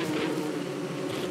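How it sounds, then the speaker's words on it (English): Bees swarming in the survival video game Don't Starve Together, a dense, continuous loud buzzing drone filling the whole short moment with no break. "the bees are everywhere! It's terrible!"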